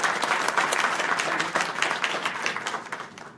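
An audience at a mental health forum applauds a doctor who has just spoken, a dense steady clapping that fades slightly toward the end.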